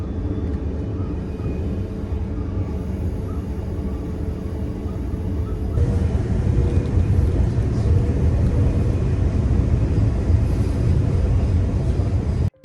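A steady low rumble of a moving train interior, continuous and fairly loud, growing a little louder partway through, with no talking.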